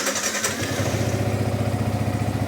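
Motorcycle engine warming up at idle before a Sunday morning ride, a steady, close, rhythmic low putter that holds evenly throughout with no talk over it.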